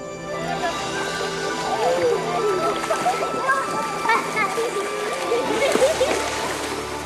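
Irrigation water rushes and splashes into an Egyptian garden plot, a continuous turbulent flow with sloshing bursts, heard fairly close beneath children's voices and chatter.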